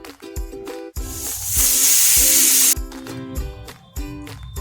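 A pressure cooker boiling peas for ghugni lets out a loud, steady hiss of steam for about a second, rising over music that plays throughout.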